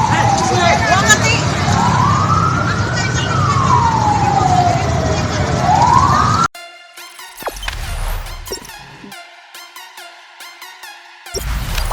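A loud ambulance siren wails up and down close by at a city intersection in Yogyakarta, then cuts off abruptly, followed by traffic noise and a few short horn-like tones.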